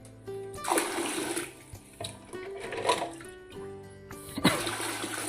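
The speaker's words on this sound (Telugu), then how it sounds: "ఇట్లా కొన్ని వాటర్ బకెట్లో తీసేసుకుంటున్నాం" Water gushes and splashes into a bucket in a few separate pours, with short pauses between them, as water is drawn out of an aquarium.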